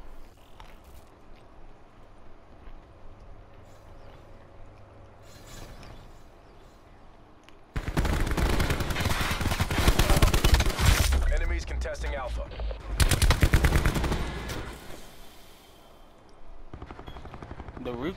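Gunfire from a grab rifle in the Call of Duty 2019 CWL game, with loud sustained automatic bursts that start abruptly midway and keep going in long strings while a player talks over the quieter opening.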